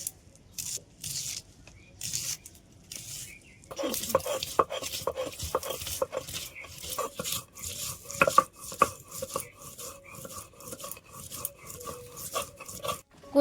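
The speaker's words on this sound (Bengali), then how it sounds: "তো চলো এখন শিলপাটাতে মশলাটা রেডি করে নিই।" Ginger, garlic, onion, dry chilli and cumin are ground on a stone slab, starting with a few scattered knocks and then settling into repeated rough scraping and thudding strokes up close, with no talking.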